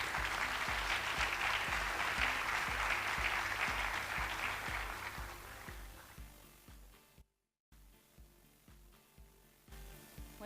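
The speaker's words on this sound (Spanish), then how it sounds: "Aplausos, por favor." Audience applause at a talk on education and hacktivism, a broad crackling wash of many hands that gradually dies away, with a brief gap and faint low background afterward.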